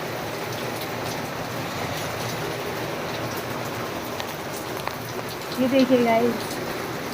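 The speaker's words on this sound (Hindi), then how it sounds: "अभी तो आप देख सकते हो बारिश कितनी तेज़ है" Heavy rain pours down steadily as a dense, even hiss throughout, with a voice speaking briefly near the end.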